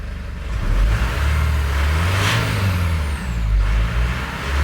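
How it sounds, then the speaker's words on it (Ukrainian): A Mitsubishi Pajero engine running steadily after a restart, a loud low rumbling idle close by with a brief swell of revving midway and no talk over it. "От зараз залушу, заведу."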